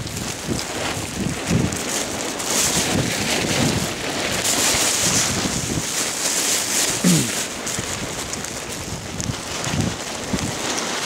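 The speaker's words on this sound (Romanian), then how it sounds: "dar acum bate și vântul" Wind blows outdoors beside a fishing pond, a steady gusty rush buffeting the microphone throughout with small rises and dips.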